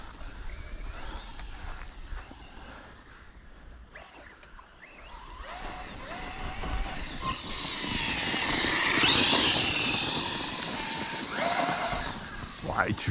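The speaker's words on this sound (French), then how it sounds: "tu l'entends le moteur qui gueule plus." Small electric RC car with a 2000 kV motor whining loudly as it drives, rising in pitch and volume midway with gravel and wheel noise, alternating outdoors with another buggy.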